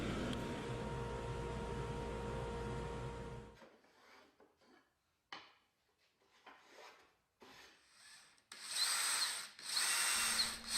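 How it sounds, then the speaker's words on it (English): A drill press motor hums steadily, then stops; scraping and rubbing of wooden plugs with a rasp and sandpaper follow, ending in louder whirring bursts of spinning and polishing with 4/0 steel wool on the drill press. "To shape the plugs, I use a rasp, sandpaper, and 4/0 steel wool to polish on the drill press."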